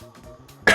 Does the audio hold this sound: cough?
yes